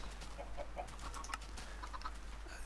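Chickens cluck in a pen in the Minecraft-based video game Sim-U-Kraft, several short clucks scattered over a steady low hum.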